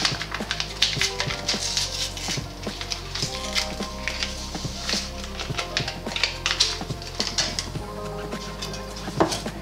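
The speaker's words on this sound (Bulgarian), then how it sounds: "и заедно с захарта и ваниловата захар малко го разбърквам" Butter, sugar and vanilla sugar mixed with a wire whisk in a bowl for a banana cake, giving a steady run of close clinking and scraping taps against the bowl throughout.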